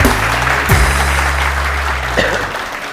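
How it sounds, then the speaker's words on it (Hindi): Audience applause in a studio morning show, loud and steady throughout, over a strong low music bed with a brief sharp hit near the start. "बहुत सारी तालियां एजाज रोमेरो के लिए"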